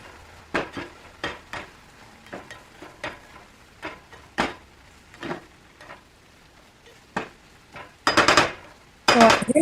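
Sun-dried tomatoes and TVP stirred in a pan, with a series of close spoon scrapes and clacks against the cookware at an uneven rhythm, ending in louder dense bursts of scraping and sizzle.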